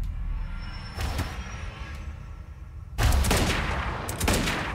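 Gunfire from the action video game Quantum Break crackles in loud bursts, with a few sharp shots early on and a dense volley near the end over a low rumbling backdrop.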